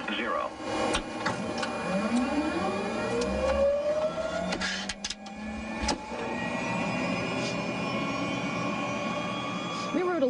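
A Customs and Border Patrol surveillance airplane drones steadily in flight above the U.S.-Canadian border, a loud continuous engine hum with rising tonal whines and brief clicks throughout.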